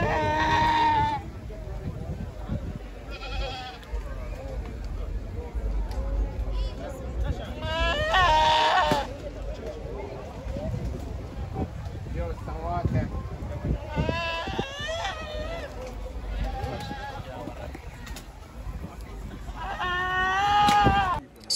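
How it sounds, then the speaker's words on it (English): Goats and sheep bleat repeatedly in a farm show's livestock area, several loud wavering calls near and far over a background of crowd chatter and talk. "So here we have the goat and sheep area."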